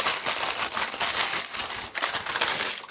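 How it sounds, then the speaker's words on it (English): Transfer paper peeled slowly off a candle, a steady close crackling and crinkling rustle that runs throughout with no voices. "And peel that away"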